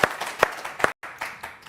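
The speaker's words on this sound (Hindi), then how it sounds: "और हमारे साथ ये ऑडियंस भी, इनके लिए एक ताली होनी चाहिए मेरी तरफ से" A live studio audience at a Hindi debate show claps in short bursts, with sharp peaks, a brief silent gap near the end, then lighter scattered clapping.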